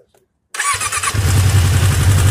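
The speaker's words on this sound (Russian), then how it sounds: "Запускаем двигатель." A Suzuki GSX 600 Katana motorcycle, one with a knocking engine, cranks briefly and fires, then settles into a loud, steady, throbbing idle close by.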